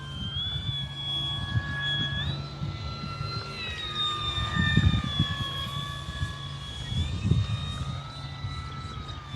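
An E-flite F4U-4 Corsair RC model airplane cruises overhead at partial throttle, its steady electric whine shifting in pitch as it passes, with wind gusts buffeting in the background.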